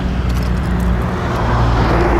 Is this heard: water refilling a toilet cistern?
no